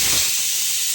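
A pressure cooker cooking potatoes lets off a loud, steady, close hiss of steam that holds unbroken throughout.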